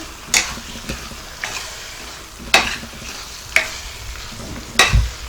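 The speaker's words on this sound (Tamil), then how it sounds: "இப்போ கத்திரிக்காய் போட்டு நல்லா கலரி விட்டாச்சு" Brinjal cooking in spicy gravy on a low to medium flame, giving a soft sizzle broken by a few sharp spoon scrapes and knocks against the pan. Close and clear, with no speech.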